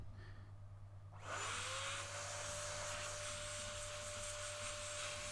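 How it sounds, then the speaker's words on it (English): An air blower clearing dust from a PS4 Pro cooling fan kicks on after a second of quieter hum, then runs as a loud, steady, hissing rush with a sustained whine for the remainder. "let's get the blower one more time and blow out any of the excess dust that the brush might have loosened up"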